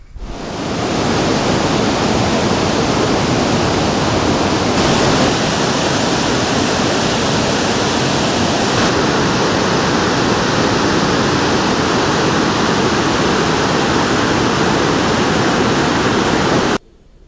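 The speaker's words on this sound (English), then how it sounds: "This was River Mandakini, which was flowing with a roaring noise." Mandakini river roaring through the Himalayas near Gourikund, a dense, steady wash of rushing water filling the whole stretch at constant loudness, close and continuous with no voices.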